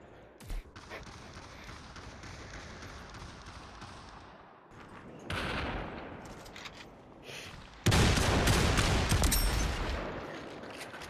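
Gunfire in the Population ONE video game on the Moon map, including sniper rifle shots: sharp single cracks and bursts, some near and loud, others farther off, over continuous game noise, with a loud stretch of firing near the end.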